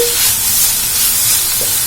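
Bread snack mixture with soy sauce and tomato sauce being stirred in a pan, a steady close sizzle with soft scraping throughout, no voices.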